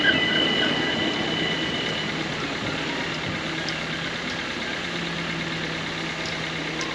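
A Richmond-bound train arriving at Acton Central station rumbles steadily nearby with a low engine drone and faint metallic wheel squeals, no voices over it.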